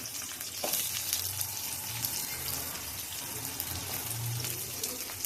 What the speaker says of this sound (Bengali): এবার আমি পেঁয়াজ দিয়ে দেবো।